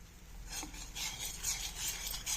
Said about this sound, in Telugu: ఇలా కలిపేస్తూ కొద్దిగా వీటిని దగ్గరికి వచ్చే వరకు, చిక్కగా అయ్యే వరకు కలుపుకోవాలి